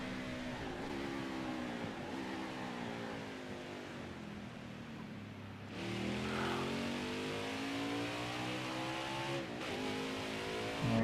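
Onboard with George Russell on a road course, a race car engine revs hard and continuously, its pitch climbing through the gears, dipping briefly on upshifts, then surging again loud and close.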